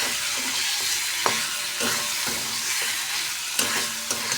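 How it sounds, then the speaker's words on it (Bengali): Meat and spices frying in a pan as they are stirred, a steady loud sizzle broken by repeated scraping strokes and light clinks at an irregular rhythm. "মশলাটা ভালো করে ভাজাও হবে, মাংসটাও ভালো করে ভাজা হবে"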